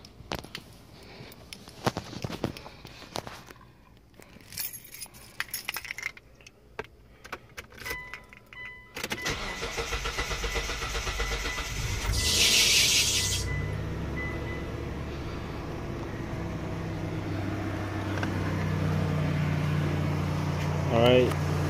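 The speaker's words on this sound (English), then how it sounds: "start the car up, then check if there's any leaks" A 1998-2004 Mitsubishi Montero Sport engine cranks and starts after a fuel filter replacement, breaking in loudly midway after keys jingle, then settling into a steady idle nearby.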